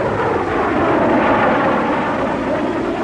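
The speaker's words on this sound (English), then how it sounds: "Low-level reconnaissance planes at near treetop level surprise the Cuban anti-aircraft crews" Low-level reconnaissance planes sweep in at near treetop level over Cuba, their engines giving a loud, steady broadband roar that fills the whole stretch without a break.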